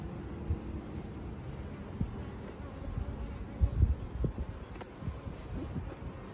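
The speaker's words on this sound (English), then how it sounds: "this is gonna allow these worker bees that are still in here, probably surviving winter bees, all of them, pull out a new queen" Worker honey bees buzz inside a struggling hive's brood nest, a soft continuous drone with faint wind-like rustle and occasional louder passes near the microphone.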